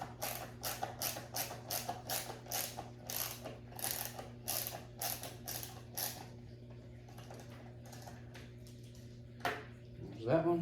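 Screw being backed out of a seat in a 2020 Dodge Challenger Hellcat makes a rapid run of close, quiet ratcheting clicks that thins out and stops, leaving a low steady hum with a few faint knocks.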